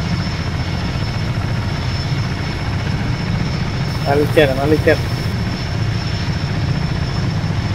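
A helicopter in the video game Arma 3 comes in to land on a hillside, its rotor and engine producing a steady, loud drone throughout, while a voice speaks briefly over it partway through.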